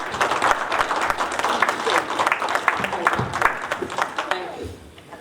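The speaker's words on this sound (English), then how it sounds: "So give her a round of applause, please" Applause breaks out from the audience at a village board of trustees meeting, a lively mix of individually distinct claps from a modest crowd, with some voices mixed in, thinning out and fading toward the end.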